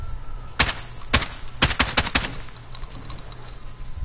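Gunfire from a weapon in Call of Duty Modern Warfare sounds in a few short, sharp bursts over a steady low background hum, with the quick shots clustered in the first half and quieter, fainter pops after.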